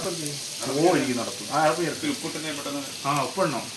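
Onions frying in a pan sizzle steadily under a person talking, with bursts of speech over the constant crackling hiss.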